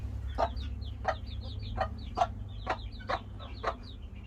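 Light-colored cochin bantam hens cluck in a steady, evenly spaced rhythm of short calls, with thin high peeps from small chicks scattered between them, all close by over a low constant hum.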